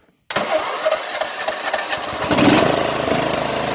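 A broken-down MTD lawn mower engine starting: a sudden catch after a brief silence, then a steady chugging idle close by that grows a little louder.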